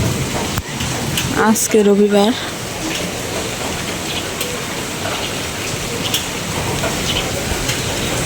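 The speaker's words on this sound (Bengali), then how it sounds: "টিনের চালের বৃষ্টির শব্দটা কত সুন্দর, কত ভালো লাগে" Rain drums steadily on a tin roof, a dense, even close patter that runs throughout, with a brief spoken phrase and a short tonal sound early on.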